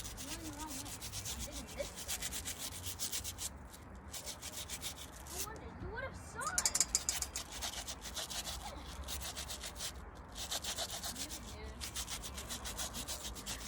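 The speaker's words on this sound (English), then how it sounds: "we will just give these lemons a little scrub-a-dub-dub" Steady scrubbing and rubbing of lemons, close and continuous, with brief splashy bursts and faint background voices.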